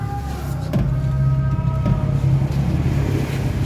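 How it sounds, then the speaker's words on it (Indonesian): An old truck's engine idling at a steady low rumble, close and continuous, with a faint whine over it and no talking. "Truk ini akan dipergunakan oleh Mbah Kerto pergi menuju ke areal pertanian milik beliau."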